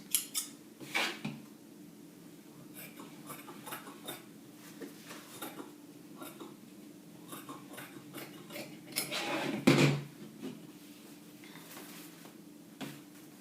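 Scissors cutting through fabric lining folded into four, a series of faint, scattered snips and small clicks close by on a table, with one louder clack near the end.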